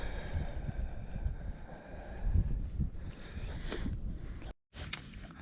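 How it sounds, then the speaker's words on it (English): Strong wind gusting through a hilltop campsite at night in freezing windchill, a steady broadband roar with swelling gusts, quite loud and close to the microphone, cutting out briefly near the end. "it was so windy last night"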